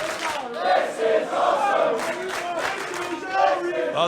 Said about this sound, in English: And listen to the crowd.